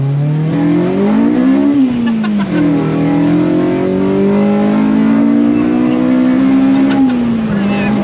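Honda Civic Type R with a budget DIY intake, naturally aspirated, accelerating hard with wheelspin in bad weather, a loud close engine note rising and falling in pitch as revs climb, drop and climb again.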